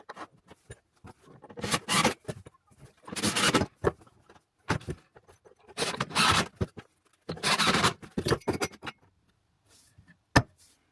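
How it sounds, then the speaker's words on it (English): Screws driven into a wooden fitted-wardrobe base frame, heard as several close bursts of screwdriver whirring and grinding, each a second or two long, with quiet gaps between them. "So I'll screw that together now, and then I'll screw it down to the deck"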